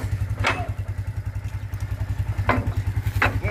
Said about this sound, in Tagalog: At sasakay tayo sa motor ni Konsi